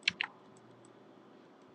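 Two quick, sharp key clicks from pressing the ESC key on a computer keyboard, close and distinct, followed by a faint steady background hum.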